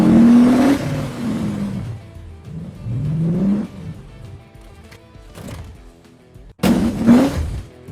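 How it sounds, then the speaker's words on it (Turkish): AI-generated sports car engine effect, built by pitch- and frequency-shifting a recorded sound, revving loudly in rising surges, dipping into a quieter rumble, then roaring up sharply again near the end, with no talking. "Mesela diyelim ki bir spor araba başlıyor, motorunu bağırttırıyor, sonradan çok hızlı gidip kaza yapıyor."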